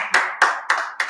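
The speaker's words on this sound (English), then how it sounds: "Clap it up again." Hands clap in a steady, even rhythm during a Friday night Assyrian language class: four sharp, close claps spaced evenly about a quarter second apart.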